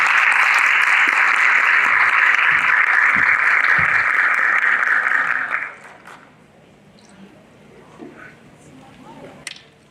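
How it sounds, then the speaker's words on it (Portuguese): Audience applause at a regional education forum panel, a loud, dense clapping that runs steadily for about five and a half seconds, then stops abruptly, leaving quiet room noise with a few faint knocks. "Palmas, por favor."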